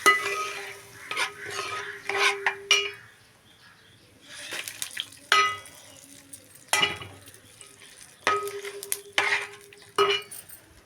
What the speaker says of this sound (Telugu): అలాగే పచ్చిమిర్చి ముక్కలు వేస్తున్నాను అలాగే ఉల్లిపాయ ముక్కలు వేస్తున్నాను